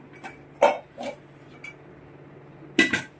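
Dishes and metal utensils clink and knock in a kitchen sink, a handful of separate sharp clatters with short pauses between them, fairly close and alone without talk.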